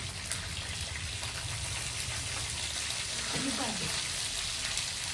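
Eggs fry in oil with curry leaves and green chillies, giving a quiet, steady sizzle and crackle under a person's voice throughout.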